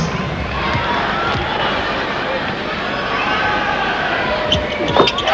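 Crowd roar from a packed arena at a 1992 NBL basketball elimination final, Melbourne Tigers vs Perth Wildcats, a continuous broad wash of cheering and shouting with a brief lift near the end.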